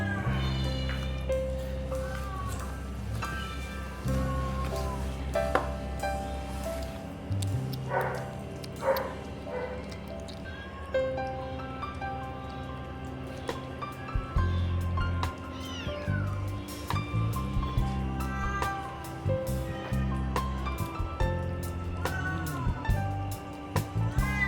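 Mother cat and her kittens, recovering after poisoning, meow repeatedly over a steady low hum, with scattered faint background voices and small clatters throughout.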